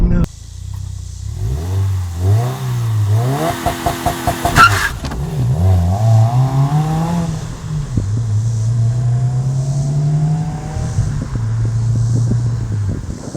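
A 2015+ Subaru WRX with a Cobb Stage 1 tune launches with the clutch dumped, its engine revving and bogging in uneven surges, then pulling steadily under wind noise, close and loud.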